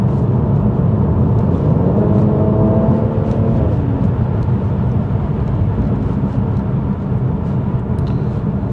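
A car fitted with an engine tuning module drives along at steady speed, its low engine drone blended with heavy, constant road rumble and tyre noise inside the cabin, with a brief rising whine in the middle.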